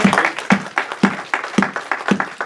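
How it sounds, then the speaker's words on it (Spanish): A church congregation claps at a Sunday morning service, rhythmic rounds of applause in a steady beat that repeat about twice per second throughout. "Un aplauso para el Señor"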